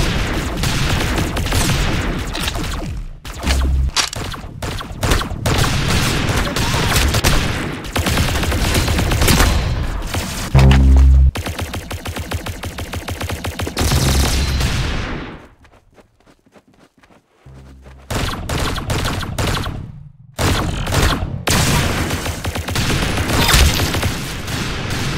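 Gunfire from the Arsenal video game: dense, continuous bursts of shots and blasts fill the stretch, broken by a brief quiet gap near the middle before heavy firing resumes.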